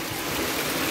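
Sudden heavy rain pours down outdoors at a house under construction, a dense, steady broadband hiss of falling water without pause, loud and close, with no voices.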